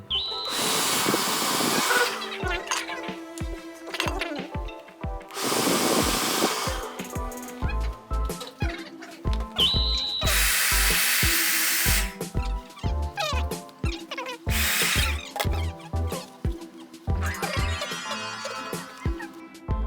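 A hair dryer blows hot air onto foam rubber for a mask, a loud whooshing blast that switches on and off in several bursts, with clicks and handling noises between.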